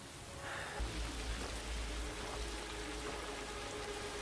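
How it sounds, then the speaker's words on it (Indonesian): Steady rain falling outdoors at a remote, abandoned-looking lodge in the horror film Until Dawn, a constant broadband hiss with a low rumble swelling in after the first second, no voices. "Karena hujan belum juga reda"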